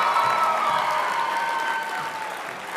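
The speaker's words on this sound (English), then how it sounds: "Please give a round of applause for the graduates from the Tourism Travel Services Management Program." Sustained applause for graduates at a spring convocation ceremony of a hospitality, recreation and tourism school, a steady dense clapping from a large seated crowd that fades slightly toward the end, with no voices.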